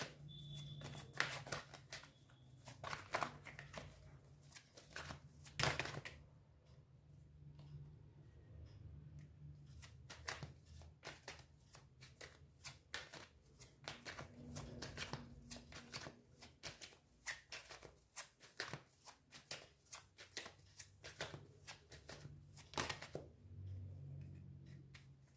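Tarot cards are shuffled and handled steadily for about 25 seconds, giving a close, continuous run of crisp papery riffles and taps with no talking.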